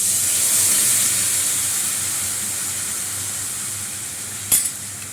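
Meat sizzles and fries in a pan with fried onions, a steady close hiss that slowly softens, broken by one brief clatter near the end.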